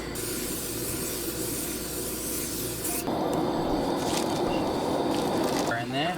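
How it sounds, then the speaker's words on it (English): Cooking oil hisses steadily from a spray can at a campsite cooking barramundi, a continuous close rushing spray with a brief break partway through, under quiet background talk. "Spray oil, not the best option."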